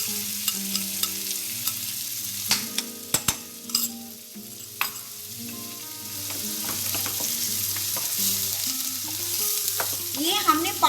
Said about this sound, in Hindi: ये हमने पालक तब तक भूनना है जब तक जो इसका पालक का मॉइस्चर है वो हमारा सारा खत्म हो जाए।